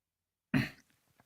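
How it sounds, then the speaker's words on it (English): A single sharp cough bursts out close to the mic after half a second of silence, followed by a faint breathy tail and small clicks. "I've got to cough."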